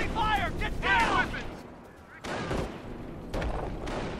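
Gunfire and artillery in the Company of Heroes strategy game: a few sharp shots and heavier distant thumps under a shouted soldier's voice, moderately loud.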